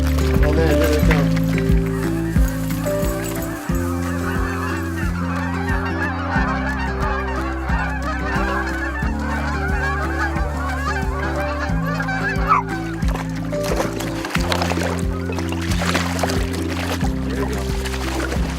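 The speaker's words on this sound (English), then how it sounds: "Oh man, here they come." Geese honk over and over during a goose hunt on icy water, a dense, steady chorus of calls that runs the whole time, mixed with people talking.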